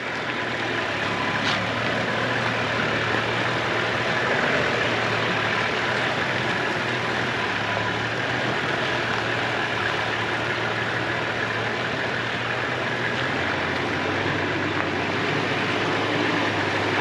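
A truck engine driving off-road, a steady low rumbling drone heard at moderate distance for the whole stretch, with no talk.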